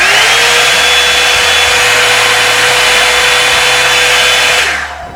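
A Revlon One Step hair dryer runs on its cool setting with a loud, steady whoosh and motor whine that holds for about five seconds before it is switched off and winds down.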